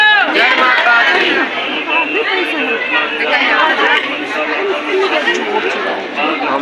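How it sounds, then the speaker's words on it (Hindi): A dense crowd of pilgrims at Mansa Devi temple in Haridwar fills the air with close, overlapping chatter and voices, a continuous busy babble throughout. "हम लोग हैं मनसा देवी मंदिर, बहुत भीड़ है।"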